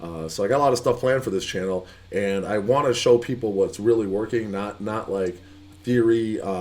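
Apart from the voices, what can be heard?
No everyday noises stand out.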